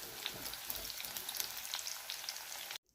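Drumstick pieces fry in hot oil for a Telugu drumstick tomato curry, giving a steady, close crackling sizzle with scattered pops that runs alone before cutting off abruptly near the end.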